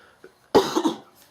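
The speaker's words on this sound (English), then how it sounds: "Sorry, I got a very bad cough." A single harsh cough from a person with a bad cough, close to the microphone, sudden and loud, with a brief rasping tail, preceded by a soft breath.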